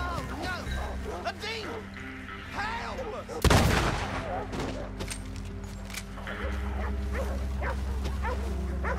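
Dogs bark and yip in a Red Dead Redemption 2 village scene, the barks repeating in short bursts across the stretch, with a sharp loud gunshot midway and people talking throughout.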